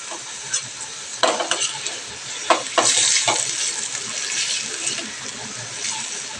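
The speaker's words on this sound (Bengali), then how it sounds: "তো দেখো চিকেনগুলোকে আমি একটু উল্টে পাল্টে দিচ্ছি।" Chicken pieces cooked in a little oil and spice sizzle in a pan while being turned over, with a few sharp scrapes and clatters of the spatula over a continuous hiss.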